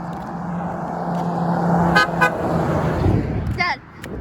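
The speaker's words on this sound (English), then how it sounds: "should have heard that black truck's horn." A black truck with big wheels and big tires sounds its horn on a road: two short honks near the middle, with a brief higher toot near the end, over steady traffic rumble and nearby talk.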